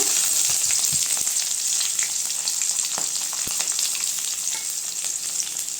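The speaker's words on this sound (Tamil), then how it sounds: "கடுகு கொஞ்சம் சீரகம் போட்டுக்கலாங்க அடுத்து கருவேப்பிலை போட்டுக்கலாங்க அடுத்து வெங்காயங்க" Mustard seeds, cumin, curry leaves and chopped onion frying in hot oil for a cabbage kootu, a steady dense sizzle with sharp popping crackles scattered throughout, close and continuous with no talking.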